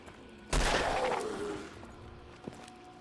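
A single loud gunshot blast in Fallout 4, with a reverberant tail that fades over about a second, followed by a faint, brief knock.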